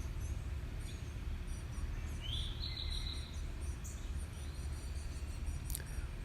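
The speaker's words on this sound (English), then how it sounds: "Hear the birds chirping." Birds chirp outdoors, a few brief high tweets and one short trilled call standing out faintly over a steady low rumble of background noise.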